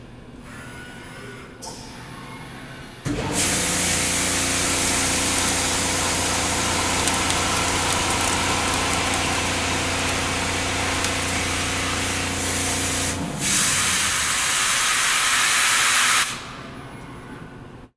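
A BIG KAISER two-insert boring head rough-bores metal on a machining center, a loud, steady grinding roar with a low tonal drone that starts after a brief idle hum, holds for about ten seconds, then gives way to a hissing spray before stopping.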